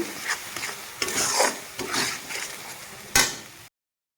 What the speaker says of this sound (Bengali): মশলাটাকে আমি ভালোভাবে কষিয়ে ভাজা ভাজা করে নেব